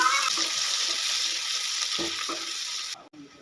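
Finely chopped onion fries with whole spices in hot oil, a loud, steady hiss close by that fades at the end, with faint stirring knocks underneath and no speech.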